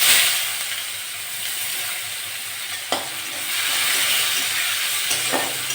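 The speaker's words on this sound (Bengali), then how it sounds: "জিরেটা হয়ে গেছে, আমি এবার পেঁয়াজ দিয়ে দেবো।" Onions hit hot oil with toasted whole cumin in a pan, giving a strong, steady close sizzle broken by a couple of sharp stirring scrapes.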